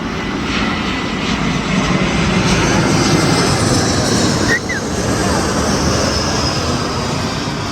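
Steady, loud roar of an airplane's jet engine at Cochin Airport filling the whole clip, broad and continuous with no break, as if the aircraft is close overhead.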